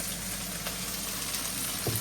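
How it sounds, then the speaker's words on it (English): Beef sizzles and fries in hot oil in a stir-fry pan, a dense continuous crackle close up with a few faint clinks and no talking. "that is frying up good"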